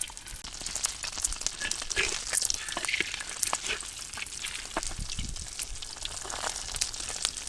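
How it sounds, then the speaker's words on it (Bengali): Eggs frying in oil in a pan in a village kitchen, a steady crackling sizzle with scattered pops throughout, close and moderately quiet, with no talking. "এভাবে করে ডিমগুলো সব ভাজিয়ে নেব"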